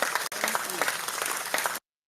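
A gathering breaks into a short burst of clapping lasting under two seconds, with a brief gap near the start and faint voices mixed into it, then it cuts off abruptly.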